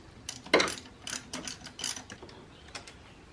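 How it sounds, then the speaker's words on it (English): A 12 mm bolt comes off a Subaru's low-pressure AC line with a socket ratchet, a short burst of quick clicking ratchet strokes close up. "Remove the 12 mil bolt."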